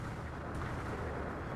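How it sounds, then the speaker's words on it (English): Explosions in the video game Code: Realize ~Guardian of Rebirth~, a dense, continuous rumbling roar of blasts with no distinct separate bangs, steady and loud for the whole moment. "Explosions go off one after another."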